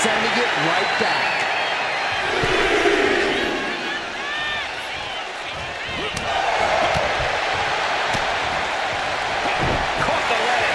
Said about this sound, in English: This capacity crowd is sending him love, and he's sending it right back.